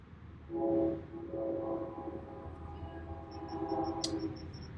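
Train rolling past at a distance, a steady low rumble with faint horn-like tonal bands and a brief high squeal near the end, continuous throughout.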